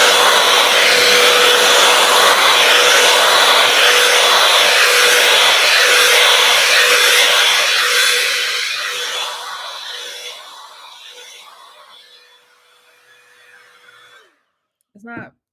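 A Dyson hair dryer roars loud and steady with a high whine for about eight seconds, then winds down and fades out before a brief click at the end.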